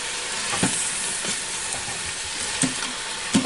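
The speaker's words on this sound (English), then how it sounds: "what you want to do now is stir it all up where all of it's" Meat and apple sizzle steadily as they fry in a pan, with soft scraping stirs every second or so, close and alone with no talk.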